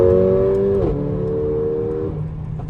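A Mercedes A45 AMG four-cylinder engine drones steadily on a wet-ish track, heard from inside with a strong harmonic hum that dips in pitch briefly, then holds at a lower tone, continuous and fairly loud.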